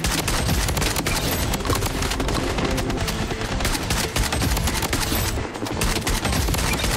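P90 submachine guns in Blood Strike unleashing sustained loud automatic fire, a dense rattling fusillade with only a brief dip before resuming.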